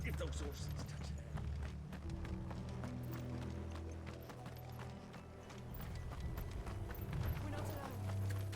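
Rapid clip-clop of horses galloping in Final Fantasy XVI, a continuous drumming of hooves over a low rumbling game score, moderately loud and steady throughout.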